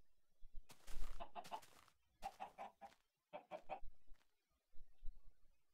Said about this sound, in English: Be very afraid. Chickens.